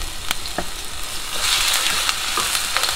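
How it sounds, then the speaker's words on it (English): Onion and minced garlic hitting warm oil with salt and pepper, giving a loud, continuous close sizzle broken by stirring clicks and scrapes. "So now that the oil is a little bit warm, just add the onion and the minced garlic and salt and pepper."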